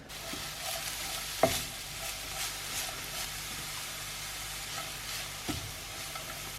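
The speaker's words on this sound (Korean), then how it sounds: "당근을 볶았고요." Shredded carrots stir-fry in a pan with a soft, steady sizzle, punctuated by occasional scrapes and taps of a utensil as they are tossed.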